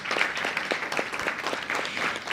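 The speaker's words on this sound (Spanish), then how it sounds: "Gran aplauso para Adrián, por favor." Steady clapping from a crowd, dense and continuous, with a few louder claps standing out through the roughly two seconds.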